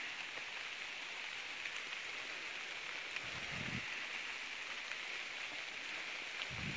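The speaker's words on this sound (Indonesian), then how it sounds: "Kayaknya hujannya ini lama berhentinya." Rain falls steadily at an outdoor bonsai plant nursery, a constant soft hiss with a few low bumps and no talking.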